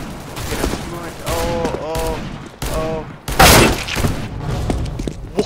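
Gunfire from the Counter-Strike game: a sharp, loud broadband burst near the middle of the clip, surrounded by a voice speaking excitedly before and after the shot.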